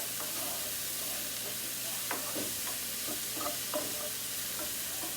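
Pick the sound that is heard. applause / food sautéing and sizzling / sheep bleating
food sautéing and sizzling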